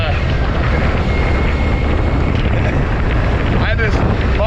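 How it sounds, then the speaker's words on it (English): Strong wind roars across the microphone at a Baja motorcycle campsite, a loud continuous rushing buffet with no pauses, and faint chirping sounds near the end. "It's super, super windy down here."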